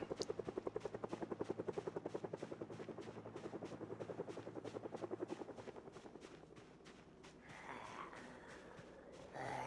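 Helicopter in the game Project Zomboid flying overhead, a loud rhythmic rotor chop pulsing steadily then gradually fading and roughening as it moves away.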